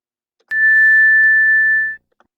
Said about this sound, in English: hearing an even higher sound at an even higher frequency, which is about 1046 hertz